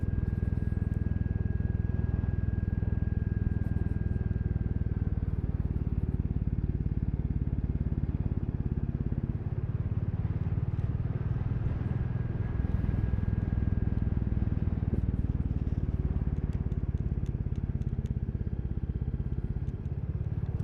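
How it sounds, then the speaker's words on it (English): A Royal Enfield Classic 350 motorcycle rides along a road with a steady, low-pitched engine drone and rushing wind noise that hold constant, with only slight shifts in tone. "it's so much nicer to ride the Classic now when the engine's producing more torque"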